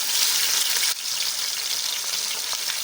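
Marinated paneer frying in a pan, a steady dense sizzle that stays loud and even throughout, with a brief dip partway through and no voices.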